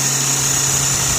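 A small Sirius steam engine drives an alternator generator, giving a steady, loud, continuous running hum with a high whine on top and no talking.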